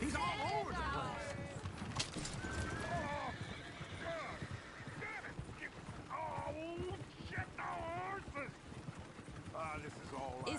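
A horse in Red Dead Redemption 2 neighs and whinnies repeatedly over the clatter of hooves and a moving coach. The sounds are loud and close, with voices talking over them.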